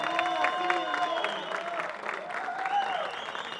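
At a rock festival, the crowd applauds and cheers for a band after the host's introduction, with sustained clapping mixed with voices and a lingering tonal hum beneath.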